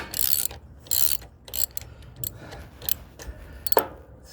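A hand tool is tightened to chase and clean up a damaged exhaust port thread on a mower engine, giving a few short, close metallic clicks and ratcheting rasps spread across the moment.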